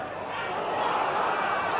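A large football crowd at Anfield during a big Liverpool v Arsenal league match in 1992, a steady dense roar of many voices throughout, fairly loud and constant.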